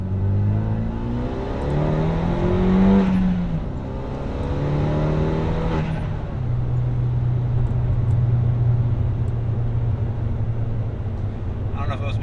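A Hyundai Elantra Sport pulling hard under acceleration, its engine drone climbing in pitch through a gear change, then holding a steady loud note, heard from inside the car.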